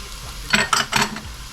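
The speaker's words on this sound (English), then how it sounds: "We are gonna be sauteing that for about another 2 minutes or so, just until it becomes real fragrant" Butter and sun-dried tomatoes sauté in a pan, with three short bursts of sizzling and stirring rising over a low hiss, close and fairly loud.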